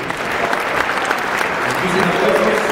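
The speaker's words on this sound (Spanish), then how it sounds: "Solicito un fuerte aplauso para despedir a las autoridades que el día de hoy conformaron nuestro presidio." A crowd at the opening ceremony of the 2017 OMI gives loud, continuous applause to farewell the presiding authorities, a dense, even roar of clapping.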